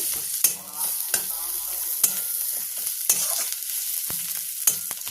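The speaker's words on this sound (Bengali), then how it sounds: "আদা রসুন বাটাটা দিয়ে 1-2 মিনিট নাড়াচাড়া করে" Ginger-garlic paste frying with browned onion in a pan for an eggplant bharta, stirred steadily: a constant sizzle broken by sharp spatula scrapes roughly once a second, close and alone.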